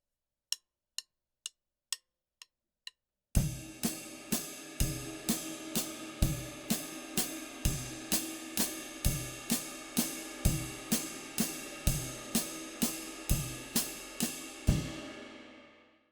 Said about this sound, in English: just play quarter notes on the ride cymbal